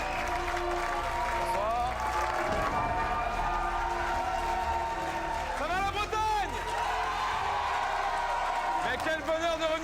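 Studio audience applause and cheering for the host of a French TV charity show in Brittany, a steady roar of clapping and whoops under a man greeting the crowd over a microphone.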